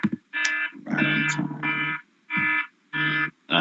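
A loud buzzing alarm sounds as a speaking timer at a live student election hustings, blaring in five harsh, distorted bursts separated by short gaps.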